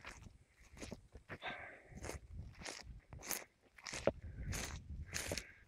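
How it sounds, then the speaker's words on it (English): Crunchy footsteps walking outdoors across dry ground in drought and heatwave conditions, a steady sequence of close, crisp steps with gritty scuffs and no talking. "Can you hear my footsteps?"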